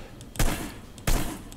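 Gunfire in the Hitman video game: two loud bursts of rapid shots, each lasting about a second, with a third starting right at the end, over a steady noisy background.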